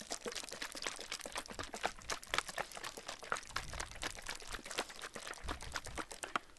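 Liquid pours continuously with a dense, splashing, bubbling texture, like a small cascade of water falling into a container nearby.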